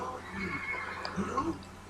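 Horse from the Minecraft Mo' Creatures mod whinnying in-game, a short neigh rising over a steady background of game sound, with a second brief call near the end.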